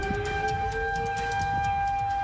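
Outdoor warning sirens wail during a funnel cloud near Janesville and Edgerton, a steady tone with a slight upward drift heard from a distance over rumbling wind noise, with no talk.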